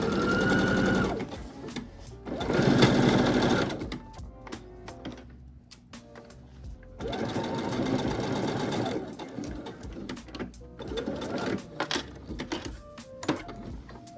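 Sewing machine stitching the lining of a patchwork denim trench coat, running in several loud close bursts of rapid needle clatter separated by pauses with small handling clicks and rustles, no talking.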